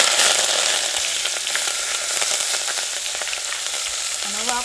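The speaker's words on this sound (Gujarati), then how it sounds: "આ મીઠો લીમડો નાખી દઈએ." Curry leaves hit hot oil in a pan while Gujarati drumstick-leaf muthiya are being made, a loud spattering sizzle that bursts out at first and then settles into a steady crackle, close, with no talking.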